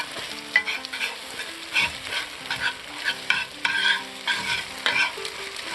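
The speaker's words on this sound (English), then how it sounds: "Now we're going to stir the eggs." Scrambled eggs being stirred in a frying pan with a utensil, repeated scraping strokes over a soft sizzle, close and steady with no talking.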